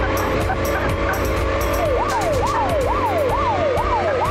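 An ambulance siren in a police car offroad video game wails in repeated rising sweeps over a constant engine hum. It starts partway through and keeps a steady, loud cycle to the end.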